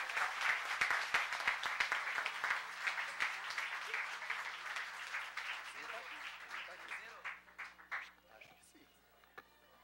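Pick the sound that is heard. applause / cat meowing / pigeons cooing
applause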